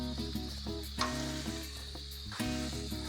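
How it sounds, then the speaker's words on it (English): Chicken for spicy wraps stir-fries in a hot pan, a steady close sizzle with constant fizzing crackle and no talking. "while this is stir frying"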